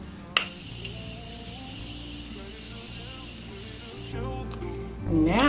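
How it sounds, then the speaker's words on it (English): A short click followed by a steady hissing spray of Morphe makeup setting spray lasting about four seconds, close by, then fading into quiet rustling. "I'm gonna go in with my Morphe spray and just set my face really quick."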